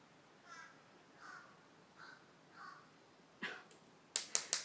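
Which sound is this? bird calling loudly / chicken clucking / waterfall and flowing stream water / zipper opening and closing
bird calling loudly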